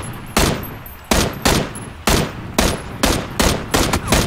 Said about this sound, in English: a different guy was shooting at me